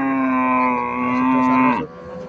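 A dairy cow moos at a cattle market in Cumilla, one long, loud, tonal call held for almost two seconds before breaking off, close by, with faint market murmur behind.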